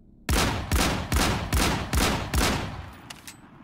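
Desert Eagle pistol fire in the battle royale video game Islands of Nyne, six loud, evenly spaced heavy shots in quick succession, each with a booming tail, no talking.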